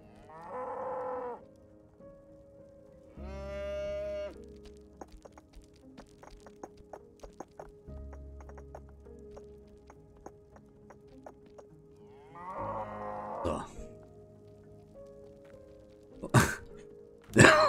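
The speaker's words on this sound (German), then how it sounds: "Und die Kühe. Die Rache der Kühe." Cows in the video game Rising World let out several loud, drawn-out moos, spaced apart between stretches of quieter clicking and footstep-like sounds, with sharp bursts near the end.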